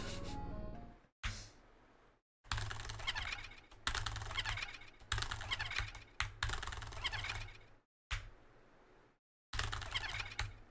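Rapid clacking of computer keyboard typing in bursts separated by short silences, fairly close and steady, with a low hum underneath during a glitchless Undertale speedrun.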